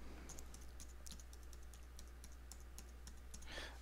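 Quick, light keystrokes on a computer keyboard as a password is entered, a soft irregular clicking run over a low steady hum, close and quiet, with no talking.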